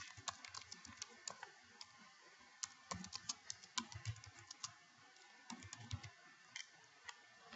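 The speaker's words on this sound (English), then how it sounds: "type your class name." A class name is typed into a form on a computer keyboard, with quiet, irregular bursts of crisp key clicks that pause briefly between words. No voices.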